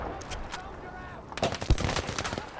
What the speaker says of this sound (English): More incoming mortars.